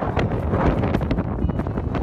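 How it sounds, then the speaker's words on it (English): Strong wind gusting at a campsite in Hungry Valley on a very cold night, gusts over 60 mph, roaring steadily and buffeting the microphone with rushing broadband noise throughout. "It turned out to be extremely cold and windy, gusts coming in at over 60 miles per hour"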